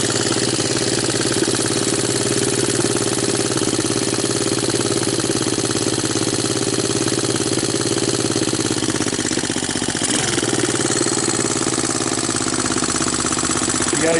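A Honda TRX200SX ATV engine idles steadily, a loud, close, even mechanical drone with a faint rattle that holds unbroken throughout, with only a slight shift near the end.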